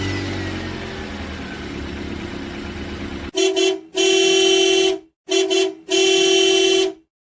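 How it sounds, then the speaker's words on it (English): Four loud, sustained blasts from a truck horn, the first two short and the last two longer, sounding close and alone after a stretch of low engine rumble and background noise. "Let's hear the horn, John."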